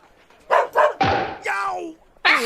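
A dog in an animated film gives a run of loud, close barks and yelps, some drawn out and whining, with cartoon sound around them.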